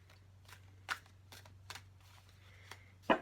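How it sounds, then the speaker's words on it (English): An oracle card deck is shuffled by hand in quiet, soft riffling bursts and taps at irregular intervals over a low steady hum, with a sharper snap near the end. "And then one more shuffle for good measure."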